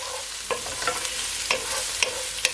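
Pork pieces sautéing in a pan for sweet and sour pork, with a steady close sizzle and periodic scraping stirs of a spatula, no voices.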